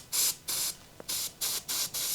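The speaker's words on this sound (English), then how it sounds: "take my compressed air, blow out all that gunk on the inside" Compressed air blasts through an aerosol can nozzle to clear out gunk after brake cleaner, five or six sharp hissing bursts in a steady rhythm with brief pauses between them, close and loud.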